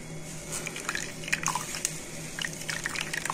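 Homemade peanut plant milk drips and squishes as it is squeezed out of a cloth strainer bag, a continuous wet trickle with small irregular squelches and splashes, close up and steady.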